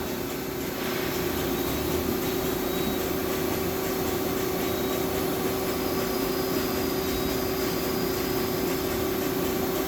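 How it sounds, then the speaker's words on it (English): An Okuma Impact LU15-M CNC lathe, a 2002 machine with hydraulic steady rest, runs its chuck in a steady, continuous spin: a constant mechanical hum with a strong sustained tone and broadband whir, close and unchanging throughout. "Running the chuck."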